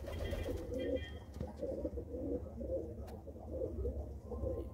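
A flock of Shah Aakhi breed pigeons at a kabootar bazi club coos continuously, overlapping low throaty calls rolling nearby in a steady chorus.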